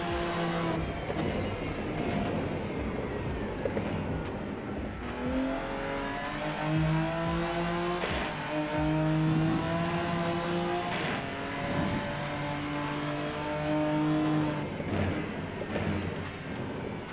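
A race car engine in the sim racing game Rennsport revs and climbs through the gears, its pitch rising, dropping at shifts and rising again in loud, close, continuous sweeps with no talk over it.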